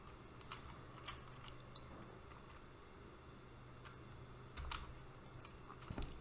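Someone types a command on a computer keyboard at a network management console. Sparse, quiet key taps come one at a time at an irregular pace over a low steady hum, with a louder tap near the end.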